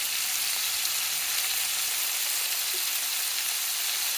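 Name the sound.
shrimp frying in a pan for fajitas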